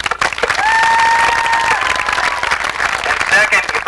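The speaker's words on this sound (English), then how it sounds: "If we could just give them a nice round of applause." Loud applause mixed with a few cheers rises from a graduation crowd for the school committee, dense clapping throughout with a faint whistle-like tone drifting over it.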